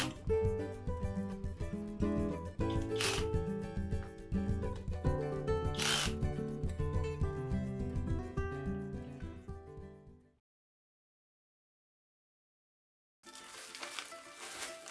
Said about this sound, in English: Set the electric driver torque to 25 steps and tighten the three bolts gradually.